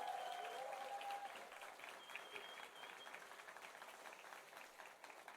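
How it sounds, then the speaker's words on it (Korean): A crowd at a church service applauds, sustained clapping heard faintly from a distance, steady and unbroken across the whole stretch. "여러분 다시 한번 격려의 박수 한번 보내십니다"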